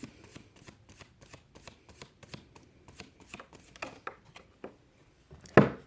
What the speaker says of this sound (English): let me grab one more card, and then I'm going to grab from my Oracle deck